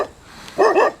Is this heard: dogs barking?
yes